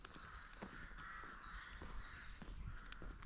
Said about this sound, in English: I can hear the crows